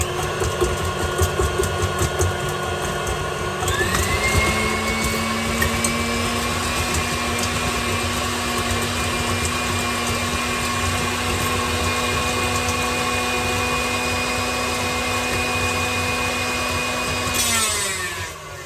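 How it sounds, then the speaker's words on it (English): A standing mixer runs at low speed as its blades tear gluten-free bread into crumbs: a steady, whirring motor hum with a constant whine and light rattling that continues for well over ten seconds before spinning down. "We're gonna start with a slow one, the standing mixer"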